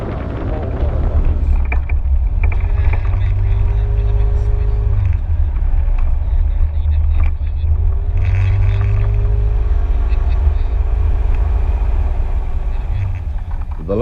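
A Yamaha XVS950 Bolt motorcycle being ridden gives a steady, loud, low engine drone throughout, with wind noise and a voice talking over it.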